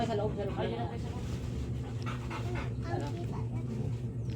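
A dog pants and whimpers close by, with people talking over steady background noise.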